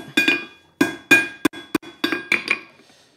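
A hammer strikes hot steel on an anvil to chamfer a forged coffee scoop: about a dozen irregular, sharp metallic blows with bright ringing tones, some in quick pairs, with short silences between.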